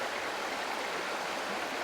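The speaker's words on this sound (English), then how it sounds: "Well, the beck is more substantial now." Gilling Beck in North Yorkshire, a stream swollen after river pollution, flows with a constant broadband rush of water, close and steady, with no voices.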